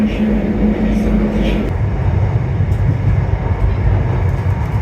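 A Shanghai metro train gives a loud, steady rumble heard from inside the car. A brief tonal whine fades out partway through over the continuous rolling noise.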